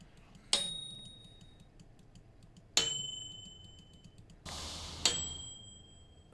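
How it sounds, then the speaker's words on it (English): A bell rings in the space station game Space Station 13, three bright dings spaced a couple of seconds apart, each with a ringing tail, one joined by a short hiss, up close with no voices. "I'll ring the bell. I will do it."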